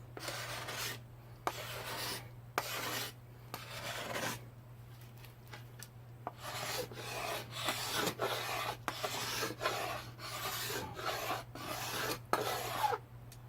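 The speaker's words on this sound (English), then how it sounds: "So that's how I scrape with this knife" A knife blade scraped along a wooden bow stave during minimal-tool bow making, rough rasping strokes repeated in bursts of one to several seconds with brief pauses, close and fairly quiet.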